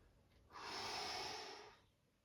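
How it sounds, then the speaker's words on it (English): A single long exhale during a runner's stretching session, a broad breathy rush that swells for about a second and a half and then fades, close and fairly quiet. "Exhale, off you go."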